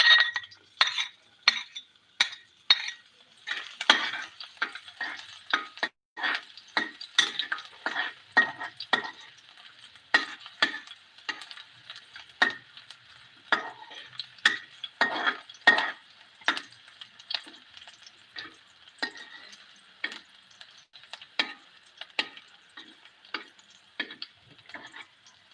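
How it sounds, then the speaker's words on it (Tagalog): Garlic sizzles in a pan while a spatula scrapes and clinks against the metal in frequent irregular strokes, close up and fairly quiet, with no one speaking. "Igisa na natin yung bawang."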